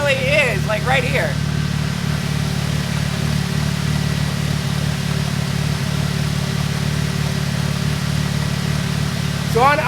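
Supercharged Mercedes SLK320 with aftermarket intake and exhaust idling close by, a loud, steady low-pitched drone with even pulsing throughout; a voice speaks briefly at the start and end.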